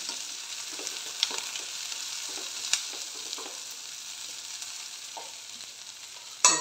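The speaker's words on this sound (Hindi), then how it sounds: "प्याज करीब भुन चुका है" Chopped onions frying in a pan for a mushroom and pea curry, giving a steady close sizzle with a few sharp clicks of stirring and a louder scrape at the end, no talking.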